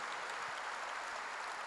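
A church congregation applauds during a sermon, a steady, dense patter of many hands clapping at once, fairly faint and unbroken throughout.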